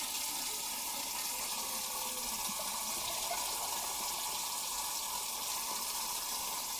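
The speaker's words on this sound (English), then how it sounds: "So you're rinsing the other cans to get all that heavy sauce out of them." Water runs steadily from a kitchen tap while tomato sauce cans are rinsed, a continuous close hiss and splash with faint clinks, no talking.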